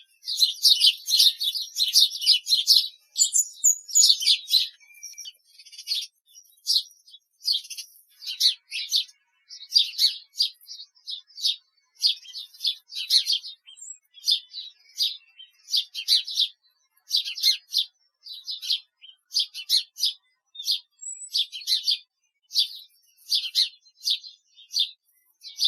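Sparrow fledglings chirp in rapid, high bursts, calling repeatedly and nearly continuously for over twenty seconds with short gaps between volleys.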